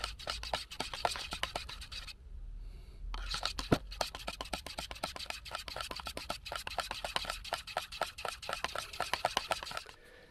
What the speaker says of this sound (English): So I'm just going to give it a good stir.